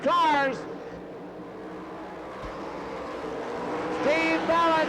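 Sprint race cars at the Knoxville Nationals scream past with rising and falling engine whine, loud at the start and again near the end, while a track announcer talks over the quieter stretch in between.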